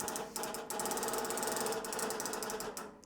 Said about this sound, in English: all I have to do is grab this string and ratchet it